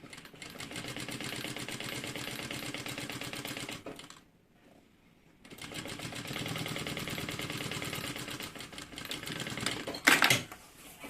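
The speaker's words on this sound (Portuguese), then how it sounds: "Ó, costura bem justinha." A domestic sewing machine stitches a seam on a fabric toiletry bag, running in a steady rapid rhythm for several seconds, pausing briefly, then resuming close and clear with no talk.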